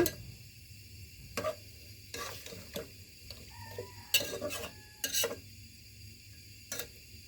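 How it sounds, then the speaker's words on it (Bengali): A spoon scrapes and clicks against a pot in short, irregular bursts while yogurt is stirred into beef for tehari, quiet over a low background hum. "এই পর্যায়েই ভালো করে নেড়ে চেড়ে দই মেখে দিচ্ছি"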